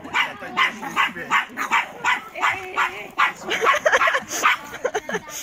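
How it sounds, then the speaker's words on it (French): Two small dogs, including a Chihuahua puppy, barking outdoors in rapid repeated yaps, close and loud, with some whimpering mixed in and light talk underneath. "Il y a les deux qui se mettent à aboyer."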